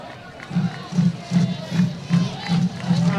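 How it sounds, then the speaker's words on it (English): Fans cheer for the Hornets at a Hallsville Bobcats vs Huntsville Hornets bi-district high school baseball game. Rhythmic shouts rise in regular bursts about twice a second, with a faint announcer voice underneath. "Tammy Vincent cheering on the Hornets."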